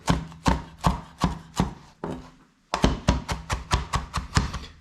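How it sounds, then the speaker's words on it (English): Knife roughly chopping fresh cilantro on a cutting board, a steady run of crisp, close thuds, a brief pause, then a quicker series of even chops. "So I'm just going to give me a good little rough chop here."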